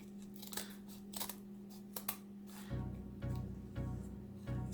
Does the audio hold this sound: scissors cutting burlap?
yes